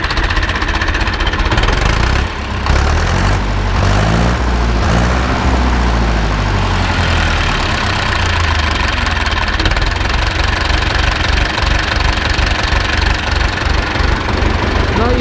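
Ursus C-360 tractor diesel engine running, a loud, close, steady knocking chug with a throaty rumble that varies slightly in pace early on, continuing throughout without speech.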